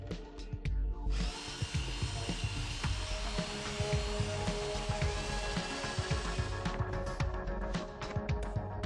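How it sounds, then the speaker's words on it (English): A power drill drills out rivets on the seat carrier of a Mercedes W205, whirring steadily and close with grinding bites and brief pauses as the bit works through the metal. "Drill these out."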